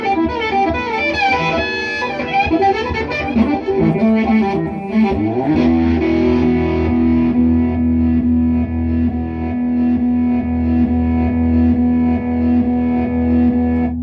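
A Danelectro '59 Divine or '64XT electric guitar runs through a reverse effect. Notes swell in without attack, blurring into a dense wash, then a low chord sustains with a thick, droning tone. There is no talking.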